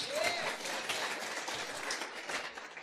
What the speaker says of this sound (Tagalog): Palakpak kini Jesus.